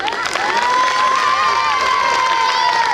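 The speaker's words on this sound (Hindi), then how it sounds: "ताली बजाओ।" An audience at a Hindi comic poetry gathering cheers and claps loudly and steadily throughout, a dense crowd roar with shouting voices rising over continuous applause.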